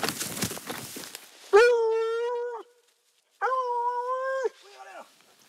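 Hunting dog on a wild boar chase giving long, sustained howling bay notes, two drawn-out cries with a gap between, preceded by rustling brush and followed by a softer whimpering tail, heard at moderate distance outdoors.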